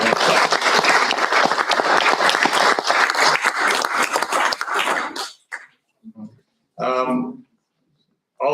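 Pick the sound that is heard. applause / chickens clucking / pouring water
applause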